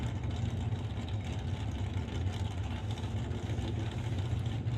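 A drag racing Beretta at a Canada West Doorslammers elimination purging its nitrous system, heard as a steady, loud broadband hiss and rumble over engine drone at the track, continuous for several seconds without talk.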